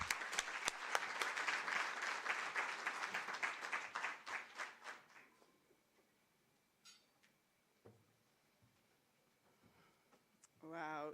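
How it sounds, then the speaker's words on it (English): At a university innovation festival awards event, an audience gives a burst of applause that thins into scattered claps and fades out, followed by near silence with a few small noises and brief talk at the end. "So let's give her a warm round of applause."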